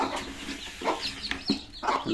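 Tiger chickens and chicks on a small home farm, feeding on poultry feed, giving several short, close clucks in quick irregular bursts against a low background hiss.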